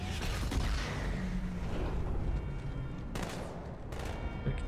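Plasma rifle fire in Halo 2 crackles in a steady, dense stream with a couple of sharper bursts near the end, loud and continuous against a busy battle backdrop.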